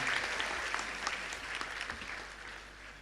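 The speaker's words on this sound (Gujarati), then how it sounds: "જોરદાર તાળીઓના ગડગડાટથી વધાવીએ" An audience at a college honouring ceremony gives sustained applause, a dense crowd of claps that holds steady and then slowly fades.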